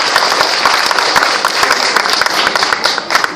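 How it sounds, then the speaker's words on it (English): A crowd applauds and cheers for Shekhar at an event, with a dense, steady wash of clapping that lasts a few seconds at close range. "Big round of cheer for Shekhar."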